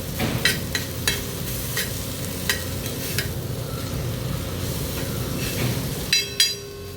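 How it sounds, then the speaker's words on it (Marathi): A vegetable dish of garlic and salt in oil is stirred on a griddle. A spatula scrapes and clicks over a steady, close sizzle throughout, with a few sharper metallic scrapes near the end and no talk. "2 मिनटानंतर झाकण काढून ही भाजी पुन्हा एकदा अशी मिक्स करून घेऊया."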